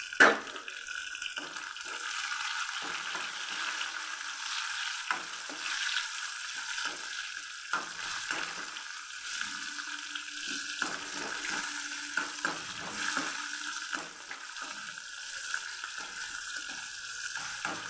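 Tomato pieces frying in a pan for a ridge gourd curry make a soft, steady sizzle, with occasional light stirring scrapes and clicks, fairly quiet throughout.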